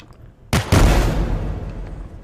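Twin pistols fire in the Forgive Me Father video game, a sudden loud shot followed quickly by a second heavy blast that rings out and decays slowly, with no talk.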